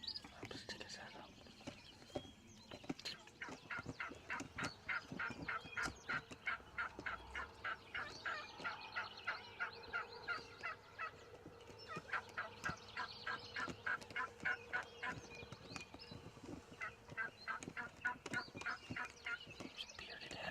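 Wild turkeys in the field give off soft, rapid gobbling and clucking in repeated bursts, faint and somewhat distant, with hushed whispering voices close by.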